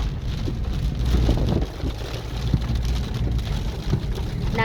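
Steady rain pours down outdoors on a street, a dense, continuous hiss and patter close around, with no voices.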